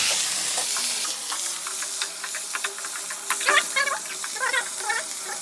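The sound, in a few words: vegetables frying in a pan with panch phoron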